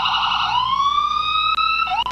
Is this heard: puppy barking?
no